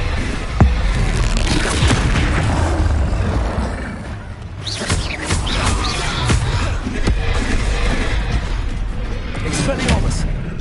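A Confringo spell blast in Hogwarts Legacy goes off as a loud, booming burst amid dense, rumbling combat noise. Further sharp hits and crackles follow, with a voice shouting spell names over the din.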